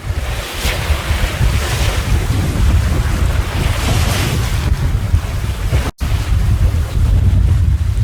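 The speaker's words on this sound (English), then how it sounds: "the wind picked up a bit, so I've put another reef in now, so we're fully reefed" Strong wind roars across the microphone aboard a fully reefed sailboat, with waves and surf washing loudly and continuously around the hull and a brief dip in the gusting.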